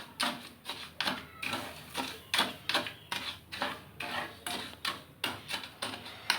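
A spoon stirs sugar and water in a pot to make syrup, scraping and clinking in a steady, even rhythm about twice a second, close and clear with no voices.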